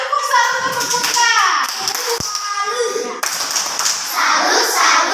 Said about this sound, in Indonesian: tepuk satu untuk Putra